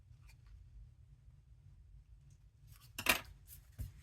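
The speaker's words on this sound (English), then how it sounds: "this gives us a curved line to cut on to round our bottom corners" Scissors trim rounded bottom corners on a paint chip sample, giving a few soft snips and paper rustles followed by one sharper crisp cut and a final snip, all quiet and close.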